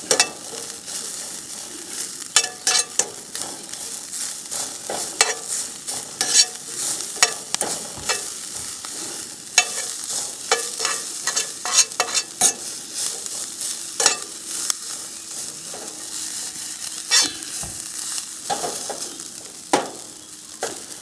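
Garlic sizzling in oil inside a camp oven while being stirred steadily, with a continuous hiss broken by frequent scraping and clinking of the utensil against the metal.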